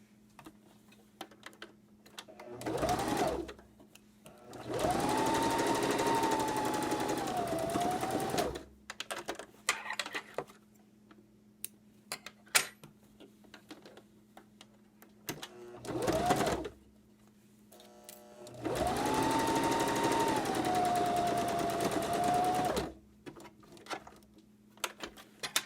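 A sewing machine stitches a fabric face mask, forming a tie tube, in two sustained whirring runs of a few seconds each, separated by short bursts and quiet clicks of handling.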